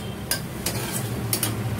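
Sambar spice mix roasts in a pan, with a low background sizzle and a few crisp scraping clicks of a spoon against metal at irregular intervals, close by and without speech.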